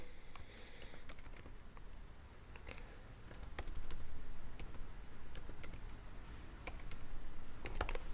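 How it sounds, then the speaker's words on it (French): Fingers tap out a card number on a computer keyboard in quick, uneven bursts of crisp clicks, fairly close and quiet, with a soft room hiss underneath and no talking. "Je mets mon numéro de carte."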